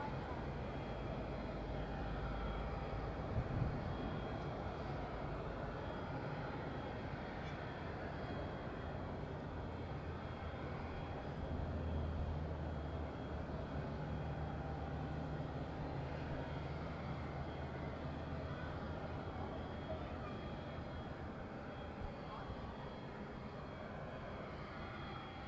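An Airbus A320ceo airliner on pushback at Madeira Airport drones as a steady, distant low engine rumble with a broad airy hiss, constant throughout, while a voice talks intermittently over it.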